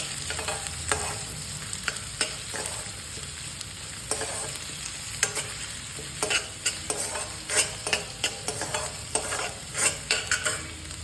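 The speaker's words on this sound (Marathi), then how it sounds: "गॅस थोडा मिडियम कांदा छान लालसर होईपर्यंत मी हे परतून घेते" Onions sautéing in a pan over medium heat, a steady sizzle running throughout with a string of scraping stir strokes that get louder and closer together toward the end, and no talking.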